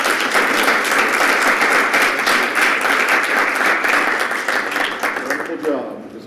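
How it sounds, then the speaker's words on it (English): A round of applause at a city council meeting rings out loud and close, a dense patter of many hands that holds steady, then thins and stops near the end. "Let's give Belinda a round of applause."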